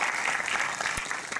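Brief burst of crowd applause for a guest named Wagner da Fly at a local commerce gathering, dense even clapping from a room of people.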